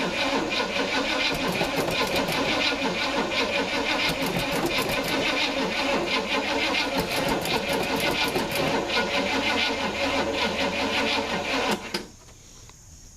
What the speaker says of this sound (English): That old Recon battery ain't sounding too healthy, Phil.